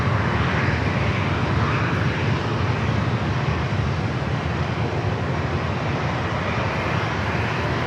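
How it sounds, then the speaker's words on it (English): Southwest Airlines Boeing 737-700 taking off from runway 27 at San Diego airport, a loud, steady jet engine roar that holds constant and near throughout with no talk. "These three 737-700s, all with Southwest. Heading on out of here"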